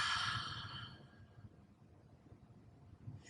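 An ujjayi yoga exhale with an open-throated ha sound, a soft breathy sigh near the mic that fades over about a second, followed by quiet breathing.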